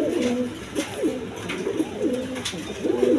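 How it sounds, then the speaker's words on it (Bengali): A pair of domestic pigeons cooing close by, repeated soft throaty rolling coos in a steady rhythm, with faint background noise and no talk. "তো আপনাদের মাঝে প্রথমে এক পেয়ার কবুতর শুরু করতেছি।"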